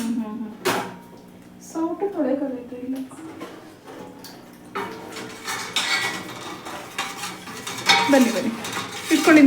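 Plates and dishes are set down and handled for a home meal of ragi mudde and sambar, with clattering, scraping clinks in uneven bursts under ongoing conversation.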